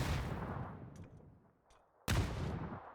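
A grenade blast in PUBG during an esports match: rumbling explosion noise fades to near quiet, then a second sudden loud burst of gunfire or blast hits and decays, with no talk over it.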